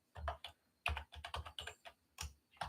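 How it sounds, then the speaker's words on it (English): Quiet, close keystrokes on a computer keyboard tap out in irregular bursts of a few clicks each, with short pauses between groups. "let me just type"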